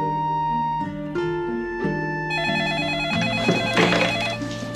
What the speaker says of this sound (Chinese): 爸，你电话。